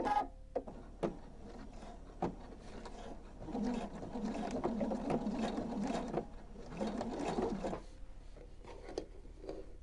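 Sewing machine stitching a seam with a one-centimetre seam allowance in double-sided plush fabric, quiet intermittent mechanical whirring in short runs with pauses between.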